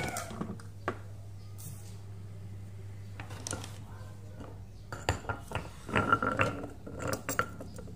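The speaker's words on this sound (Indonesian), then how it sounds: "ngulek bumbunya." Stone mortar and pestle grinding spices, including curly chilies, for beef sambal goreng with curry seasoning: scattered scraping and clacking strokes that quicken into dense grinding toward the end, with a steady low hum beneath.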